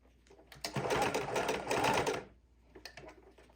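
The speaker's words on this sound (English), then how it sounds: "And needle down, pivot, foot up. Sew down the side." A sewing machine stitches the side of a fidget quilt in a loud, close, steady whir that runs for over a second. It then stops, and a faint brief burst follows.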